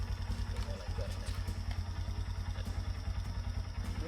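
A motorcycle engine idling nearby with a steady low, pulsing thrum and light mechanical clatter, while people talk over it.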